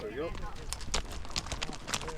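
Horses are saddled up for a roundup near Lyman Lake after wintering in a 1,000-acre pasture, giving off quick, close clip-clopping hoof beats in an uneven rhythm while people talk.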